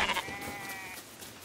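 A sheep bleats in the Lego Fortnite video game, one short wavering cry that fades out, fairly quiet and heard alone.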